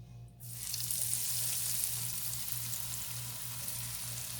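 Eggplant slices drop into hot frying oil, setting off a sudden, steady sizzle that starts after a brief quiet moment and continues evenly to the end, with a low hum running underneath.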